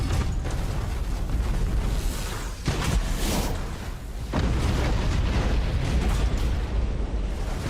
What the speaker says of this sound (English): That is some crisp artillery.